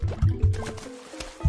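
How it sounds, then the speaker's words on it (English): Splashing water in a pool in Plants vs. Zombies: a few short, wet sploshing bursts in quick succession, soft and near, with a brief gurgle and no voices. "There's splooshity splashing over there."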